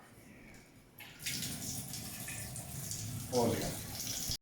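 Water running from a tap to heat up for cider making, a steady hiss and splash that starts a second in and continues to an abrupt stop, with people talking briefly underneath.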